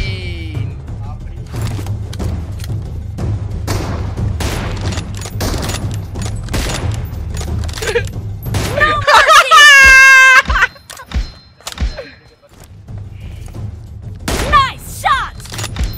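Gunfire in PUBG Mobile: rapid bursts of sharp shots and thuds crackle over a low rumble, with a denser volley midway and scattered single shots afterward.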